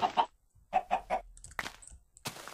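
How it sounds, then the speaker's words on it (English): A chicken clucks in short bursts, a few quick notes close by, followed by scattered small clicks and scuffling sounds, in a video game. "Why is there a chicken outside? Two chickens."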